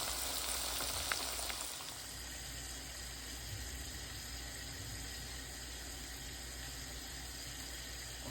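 A constant sizzle of chicken frying in hot vegetable oil, even and unbroken, close by with a low hum underneath.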